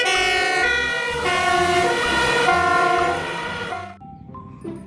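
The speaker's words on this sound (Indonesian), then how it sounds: "Mobil truk pemadam kebakaran." A toy fire truck wails with an electronic siren, a loud warbling tone rising and falling in repeated cycles for about four seconds before cutting off, leaving a few faint tones after.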